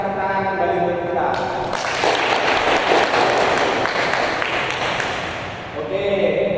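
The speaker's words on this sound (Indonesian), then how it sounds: "Kita akan tepuk tangan kembali untuk kita." Children clapping their hands together in a classroom, a dense burst of applause from a whole class that swells after the first second and then fades near the end.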